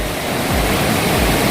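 River stream flowing in the wild, a steady close broadband rush of water with no variation and no voices.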